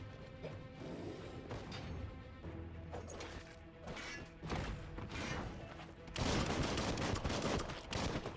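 Gunfire in the action role-playing video game Biomutant: bursts of rapid shots and crashing impacts that grow louder and denser toward the end, with faint background music and effects and no talk.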